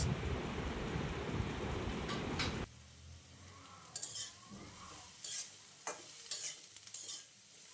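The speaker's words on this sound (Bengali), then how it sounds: "মরিচ দিয়ে ভালো করে ভেজে নিতে হবে" Chili frying in a pan for an egg and eggplant curry: a loud, dense sizzle for the first few seconds gives way to a quieter fry under sharp, scattered clinks of a spatula stirring against the pan.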